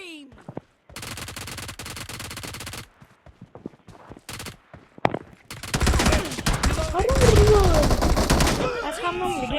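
Gunfire in the PUBG arena mode, with bursts of rapid automatic shots and single cracks, then a long dense stretch of overlapping fire and game effects, loud and close.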